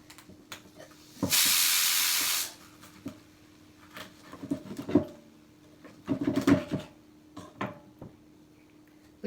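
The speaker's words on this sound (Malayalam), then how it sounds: "കുക്കറിൻ്റെ ആവി വരാറായി" A pressure cooker lets off a short, loud burst of hissing steam for about a second, then falls quiet among faint kitchen clatter and knocks.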